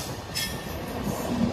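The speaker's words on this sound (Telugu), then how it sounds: "మన ట్రైన్ అయితే అలువా రైల్వే స్టేషన్ కూడా రీచ్ అయిపోయింది." The Kerala Express rolls into Aluva railway station, heard from inside a general coach as a steady close rumble of wheels and carriage with faint metallic squeals.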